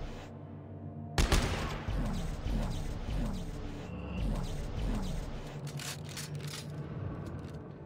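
Repeated gunshots fire in the sci-fi horror game Dead Space 3, a sharp opening blast followed by a steady run of loud, evenly spaced shots with mechanical clatter, continuing over a dense background.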